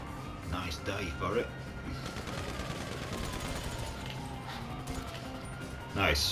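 Gunfire in a multi-level apartment mission of the video game GTA Online, a rapid continuous automatic burst running steadily for several seconds at moderate distance, with brief game chatter at the start and end.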